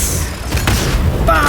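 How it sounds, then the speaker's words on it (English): Booming bomb explosions from the video game Baldur's Gate 3, a short loud burst of blasts and rumble, with a voice over it. "Bombs!"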